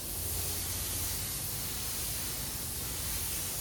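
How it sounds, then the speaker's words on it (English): A cheap primer spray gun sprays paint onto spray-out cards, giving a steady, close, continuous hiss that holds even and unbroken throughout. "Let's throw these in the gun. We're just using our cheap primer gun."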